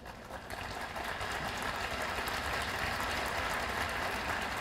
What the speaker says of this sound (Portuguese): Vocês estão aplaudindo vocês mesmos